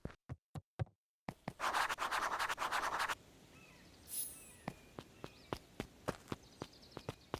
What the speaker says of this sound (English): Luka heard a group of footsteps approaching.